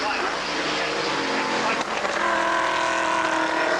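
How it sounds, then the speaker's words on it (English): A rough, unhealthy-sounding Vauxhall Chevette race car engine drones loudly and continuously at a club motorsport circuit, its broad harsh roar holding steady through the clip, with commentary talk layered over it. "a rather sick sounding Vauxhall Chevette there of Peter Gorry, number 29."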